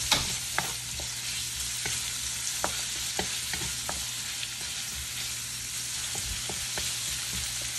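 Ginger sautéing in a pan for a Filipino squash and green beans dish with shrimp: a steady close sizzle of frying runs throughout, with occasional sharp clicks and scrapes of stirring.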